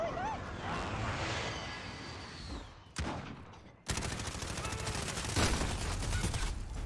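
Call of Duty gunfight, dense rapid gunshots and automatic bursts running almost continuously, briefly dropping off before a loud renewed barrage, with a voice faintly under the firing.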